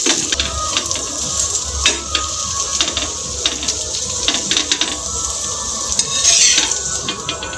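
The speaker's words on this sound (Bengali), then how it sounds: "তো বন্ধুরা আমাদের রোল ভাজা কমপ্লিট হয়ে গেছে।" Rolls frying in a pan, a continuous close sizzle punctuated by repeated clinks and scrapes of utensils against the pan, loud and busy with no talking.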